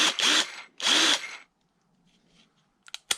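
A Benchmark 20V 1/2 inch cordless drill whirs up twice in short, loud bursts, each about half a second, followed by quiet and a couple of sharp clicks.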